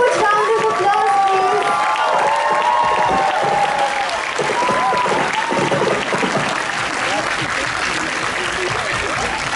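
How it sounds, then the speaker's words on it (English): Audience applause at a Model United Nations conference opening ceremony, a dense, loud wash of clapping from a large crowd that lasts throughout, with voices and a few cheers mixed in. "A huge round of applause"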